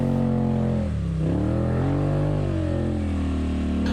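An ATV engine revs steadily on a muddy trail, a loud, close, continuous drone that dips in pitch and then climbs again, with no voices.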